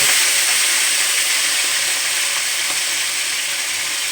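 A wet paste of ground ginger, garlic, onion, cumin and coriander sizzles hard in hot oil in a pan, a loud, steady, hissing fry that holds throughout with no talking.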